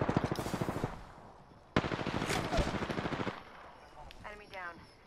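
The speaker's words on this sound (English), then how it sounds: "They're shooting." Rapid automatic gunfire from a video game shootout comes in two sharp, loud bursts of rattling shots, separated by a short pause, and the second burst fades into quieter, scattered game noise.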